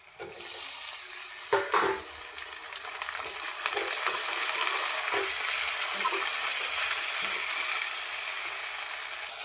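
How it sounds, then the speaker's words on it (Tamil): Tomatoes sautéing in a pan, a continuous sizzle overlaid with scraping, clicking stirring strokes, fairly close and even in level throughout. "இப்போ பாருங்கள் தக்காளி நல்லா வதங்கி வச்சு நல்லா வதக்கிட்டுக்குவோம்"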